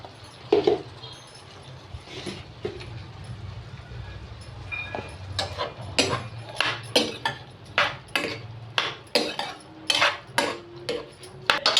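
A lid going onto a pot of tomato curry amid a run of metallic clinks and clatters of cookware, sparse at first then quick and repeated, close and fairly loud.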